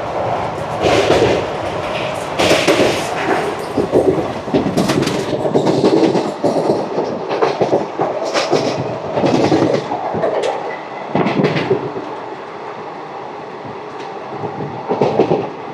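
Simhadri Express 17239 passenger train on the Guntur to Visakhapatnam line, rolling steadily on the rails with a loud, continuous rumble and rhythmic clatter of wheels heard from inside the coach, no talking.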